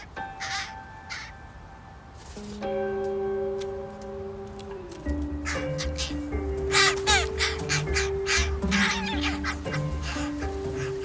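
Young crows in Seattle nests give repeated harsh caws and begging calls, some overlapping, loud and close, over steady tonal background sounds.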